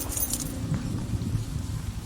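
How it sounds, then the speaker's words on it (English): A set of keys jingles and clinks briefly as it is grabbed off a desk, close and moderately loud over a low rumbling background. "I snatched my keys from my desk."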